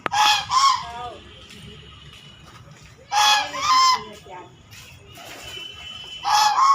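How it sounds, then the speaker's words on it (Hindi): Loud, nearby honking calls from white ducks in an old garden, arriving in three separate clusters of harsh nasal quacks with quieter stretches between. "ए दे 2 ठो बदक है वाइट कलर के"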